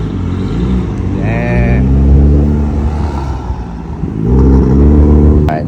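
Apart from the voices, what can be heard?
car exhaust revving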